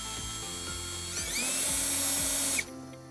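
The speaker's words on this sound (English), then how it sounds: "Use a provided self-tapping screw to hold it in place." Power drill driving a self-tapping screw into a Ford Bronco Sport during trailer wiring installation, a single sustained whirring burst that rises in pitch then stops abruptly, heard close up with no talking.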